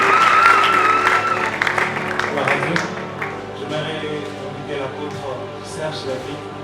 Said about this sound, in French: On acclame pour Jésus, on acclame pour Jésus.